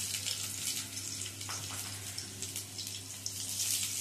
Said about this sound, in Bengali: এবারে এই তেলের মধ্যে ফোড়ন দেব। দিয়ে দেব একটা শুকনো লঙ্কা, কিছুটা কালো জিরে আর 6-7টা থেতো করে নেওয়া রসুন।